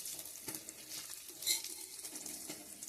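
Tarli fish frying in a pan, a soft steady sizzle with faint stirring and a brief louder crackle midway, no one talking.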